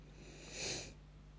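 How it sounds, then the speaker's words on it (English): A single short sniff, close and faint, rises and fades in under half a second against a quiet room hum. "I'm so fed up of sniffing."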